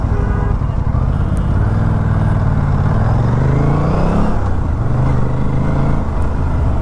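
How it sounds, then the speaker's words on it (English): Steady road noise from heavy oncoming highway traffic heard from a motorcycle, a loud continuous engine-and-tyre rumble with vehicles sweeping past, no voices. "There is a lot of oncoming traffic."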